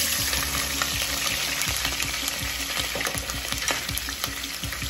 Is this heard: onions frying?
yes